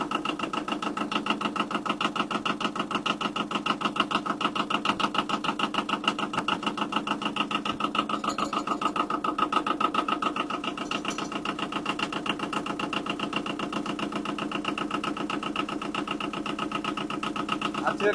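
A Yanmar 1700 tractor diesel engine idles at about 1,000 RPM, its steady close rhythmic knock continuing without a break throughout.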